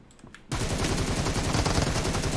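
Rapid automatic gunfire from an M762 and an Uzi in the video game PUBG Mobile: loud, dense, continuous bursts of shots that begin abruptly and keep rattling to the end.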